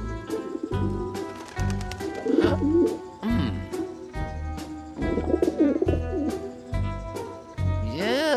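Cartoon pigeon cooing in a series of repeated throaty coos, close and fairly loud over a music score, with no talking heard.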